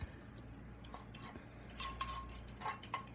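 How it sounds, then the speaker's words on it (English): A spatula scraping nacho dip onto a rimmed plate, soft intermittent scrapes and light clinks of utensil on dish, close and quiet with no talking. "spatula really helps getting all of that out. It'll also help spreading it out also on the plate."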